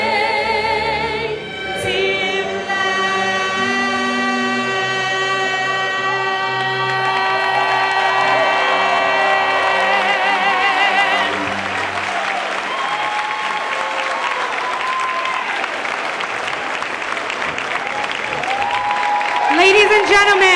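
Sustained audience applause with cheering and whoops fills a crowded hall at a Martin Luther King Jr. celebration, following a vocalist's song; the clapping stays dense and loud throughout while music fades and voices call out.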